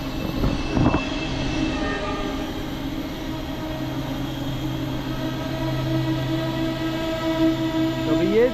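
A train pulls into a station on the Laos–China line, its steady rumble and wheel noise running throughout with long sustained horn tones sounding over it; no one speaks.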